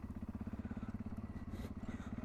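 A Voge DSX650 motorcycle fitted with a Dominator straight-through exhaust idles nearby with a quiet, even, rhythmic low burble of regular pulses and no talking.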